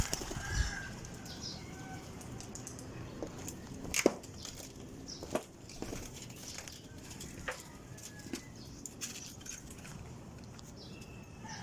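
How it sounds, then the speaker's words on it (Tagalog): Pigeons with their chicks in a coop, soft cooing and rustling with scattered sharp wing flaps and scuffles close by, irregular over a low background murmur. "Ang ganda ng yung kalapatids oh."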